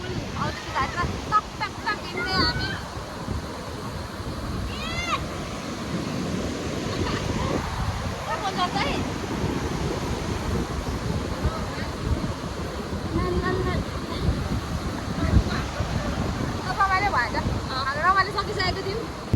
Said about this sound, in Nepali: पुरै पानी परिरहेछ है